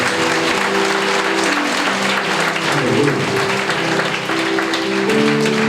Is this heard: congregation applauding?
yes